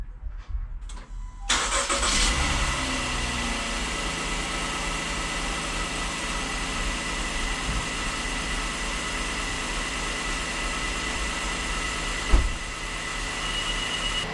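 A car engine cranks and catches on an old battery, then settles into a steady, loud idle that runs on without pause, one brief knock near the end.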